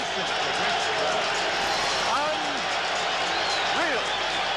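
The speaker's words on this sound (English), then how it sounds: "What an ovation. Listen to this crowd." Steady, loud crowd roar fills a boxing arena during the ring entrances for Leonard versus Durán in 1980, an unbroken ovation carrying on beneath a commentator's voice.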